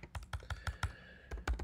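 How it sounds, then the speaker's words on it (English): Quick, crisp keystrokes on a computer keyboard, about a dozen close clicks in an even rhythm with a short pause near the end, heard alone. "I'm going to just type in a"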